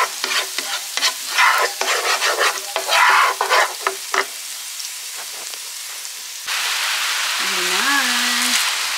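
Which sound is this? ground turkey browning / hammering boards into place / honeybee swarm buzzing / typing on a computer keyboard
ground turkey browning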